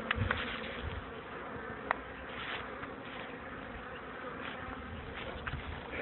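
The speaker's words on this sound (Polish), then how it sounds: "I słychać muzyczkę grania pszczół." A steady swarm of bees buzzing, a continuous insect drone with a few brief louder passes close by, heard on its own with no talking.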